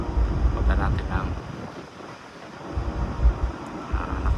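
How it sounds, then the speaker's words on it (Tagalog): Strong wind over the Atlantic Ocean at sunset buffets the microphone in low rumbling gusts, with a faint wash of open water behind it; no one speaks. "Lakas lang yung hangin"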